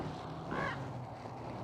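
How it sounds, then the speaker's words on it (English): A single loud, harsh bird call, like a crow's caw, rings out briefly outdoors over steady wind and background noise, with no talking. "that's a loud bird."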